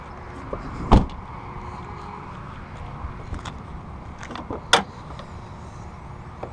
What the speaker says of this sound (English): Fuel door, trunk, hood.